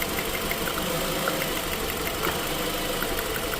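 Nissan X-Trail engine idling with the ignition coil on cylinder 4 cut, a steady, close, rough mechanical running sound with uneven knocking pulses throughout.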